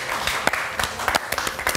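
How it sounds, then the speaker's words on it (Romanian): A studio audience applauds at the finale of a grilling cooking competition show, with brisk, continuous clapping and a few sharper individual claps standing out near the front. "Publicul, puteți să aplaudați!"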